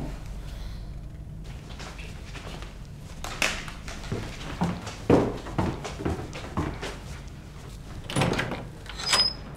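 Front door opened to let a visitor in, heard as a series of knocks, handle clicks and door movement thuds spread across a quiet indoor room, with no talking.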